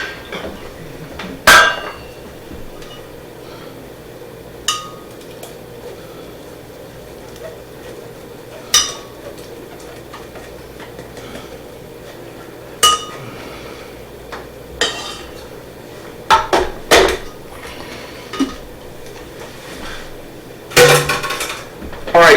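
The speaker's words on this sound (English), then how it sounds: "So let me go ahead and grab the saucepan." A saucepan is grabbed and handled among other pots, giving scattered metallic clanks, knocks and clinks at irregular intervals, close and sharp, with quieter handling sounds between them.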